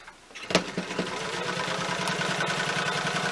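An old Singer sewing machine sews through canvas. It starts with a few uneven thumps, then settles into a steady, close, mechanical whir with a fast stitching rhythm.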